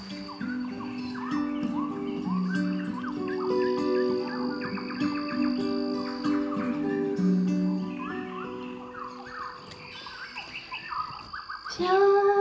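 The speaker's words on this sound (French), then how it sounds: "je rajoute des chants d'oiseaux puisque vous insistez" Layered electronic birdsong fills the scene, chirps and warbling calls over sustained tonal notes, fairly close and continuous, with a brief louder burst at the end.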